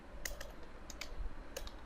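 Several quick keystrokes on a computer keyboard, typed in short bursts while entering a website search, close and fairly quiet with no talking.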